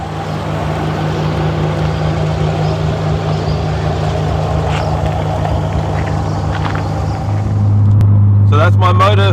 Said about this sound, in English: So that's my motor for the R34.